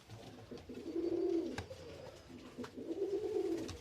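Young Mordovian ryabye pigeons, a speckled Russian breed, coo in two low, throaty bursts close to the mic, with a faint background hum and a sharp click between them.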